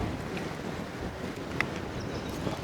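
Steady outdoor wind blows hard across a village cooking site before rain, a continuous soft rushing hiss with light buffeting and one brief tap, no voices.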